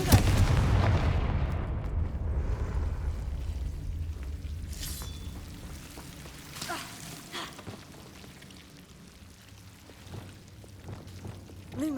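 A Confringo blasting spell explodes in Hogwarts Legacy, opening with a loud, heavy boom and rumble that decays over several seconds into crackling debris, scattered impacts and a low game ambience.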